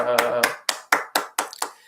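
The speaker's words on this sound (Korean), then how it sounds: "우리 하나님께 영광의 박수 올려드립시다." A small church congregation gathered for a Korean morning devotion gives a short burst of applause, then several sharp separate claps spaced evenly and fading, close and fairly faint.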